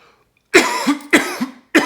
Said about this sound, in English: Can I let the cough be there?